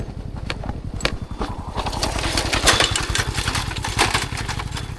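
A motorcycle engine chugs steadily while riding a rough mountain forest track on Mount Slamet. The pulsing exhaust sounds close and continuous, rising slightly partway through, with no talking.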